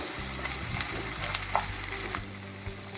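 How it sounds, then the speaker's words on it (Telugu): Curry leaves, sliced onion, green chili and ginger fry in hot oil for vermicelli upma, giving a steady, close sizzle over a low hum with no voices. "మొత్తం ఇవన్నీ వేగాలి కొంచెం కలర్ వస్తే చాలు ఎక్కువ వద్దు మాడిపోతాయి"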